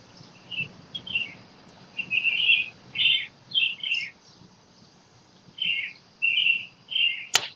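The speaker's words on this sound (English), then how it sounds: "got a real bird sanctuary going on there, Jay." Small birds chirping in the background, short bright tweets in irregular bursts, fairly faint and distant over a quiet room, with no talk.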